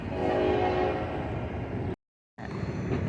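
A loud freight train horn blares with steady sustained tones over heavy rumbling, cuts out briefly, then the train's roar resumes.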